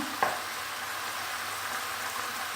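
Vodka pasta sauce in a frying pan on high heat gives a steady, close sizzle, with a brief clink near the start and no one talking.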